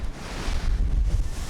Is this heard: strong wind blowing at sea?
yes